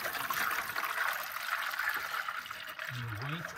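Liquid latex, mixed with diluted acid and water, poured into a frame; a steady broadband trickling pour runs throughout at moderate level, with a short low tonal sound near the end.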